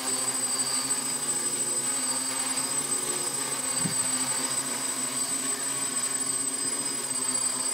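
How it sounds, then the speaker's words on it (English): A DJI F550 hexacopter drone hovers with its motors holding a steady, moderate whine and hum, constant and fairly close throughout, with no talk. "Because the motor is not like working really hard, the noise is not that bad."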